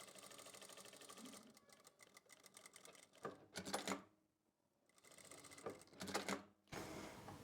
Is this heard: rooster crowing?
no